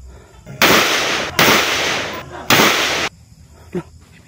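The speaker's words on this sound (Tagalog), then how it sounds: "may putok dyan" Three loud, sharp gunshot-like bursts, each ringing out with a long echoing tail, fired close by about a second apart, then quiet.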